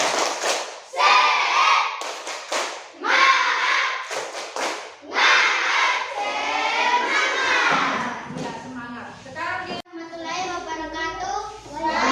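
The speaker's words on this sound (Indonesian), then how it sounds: "sekarang kita lakukan tepuk semangat dulu. Tepuk semangat." Classroom students performing a rhythmic spirit clap before group presentations, with bursts of patterned clapping alternating with children's chanting voices, close and lively, ending in a short spoken chant.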